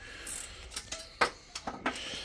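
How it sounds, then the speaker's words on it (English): Engine bolts on a cylinder head being snugged up during a head gasket and timing belt job, the ratchet's pawl clicking in short irregular bursts of sharp ticks between quiet pauses, close and fairly soft. "just nipping up a couple of bottom bolts on this side"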